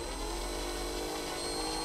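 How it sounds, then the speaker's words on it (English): A power drill whines steadily at high pitch, continuous and close, with no pauses or talking. "continue to push down on the drill"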